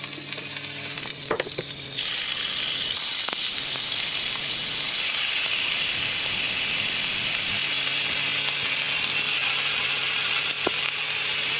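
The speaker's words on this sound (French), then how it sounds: "Maintenant, on va les griller à la poêle." Beef and lemongrass skewers sizzle steadily in a very hot oiled frying pan, a dense close crackle that swells loudly after a quieter start and carries on with faint clinks, without any talk.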